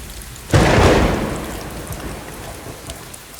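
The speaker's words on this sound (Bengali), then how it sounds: "বৃষ্টিটা কমেছে" Rain falls steadily while a sudden loud thunderclap breaks in and rolls away into a fading rumble, leaving a softer patter of rain with no voices.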